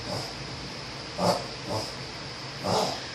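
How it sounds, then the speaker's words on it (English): A female dog gives three short, rough coughing bursts at close range, spaced about a second apart, over a quiet indoor background with no talking. "my dog is coughing again, so she does it a lot"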